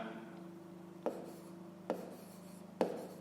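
Pen or chalk strokes on a board or paper while working a fifth-grade division-with-remainder exercise, three brief sharp taps over a steady low hum, no talking.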